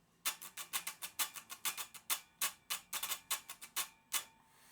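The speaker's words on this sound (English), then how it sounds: "this is the sound of just the strings in the room" Fresh Pyramid strings on a baritone guitar, played unamplified in a room, give quick, bright, percussive plucks and strums in an uneven rhythmic burst with short decay and no talk.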